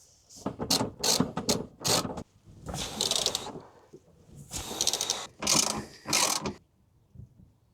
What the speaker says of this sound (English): You do have to undo all these torque screws